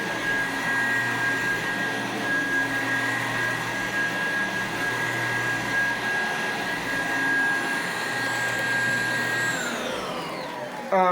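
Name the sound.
Electrolux 1451 vacuum cleaner running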